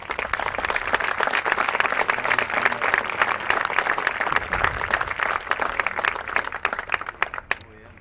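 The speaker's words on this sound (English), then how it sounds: "Let's give these young men a round of applause." Audience applause for young cadets at a military family-weekend parade, a steady dense wash of many hands clapping that holds for several seconds and then begins to thin out near the end.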